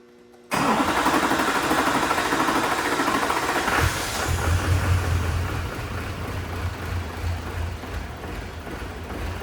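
A cheap, repaired Duramax diesel truck engine cranks after a moment of silence, catches loudly and settles into a steady, rough, close-up idle that continues to the end.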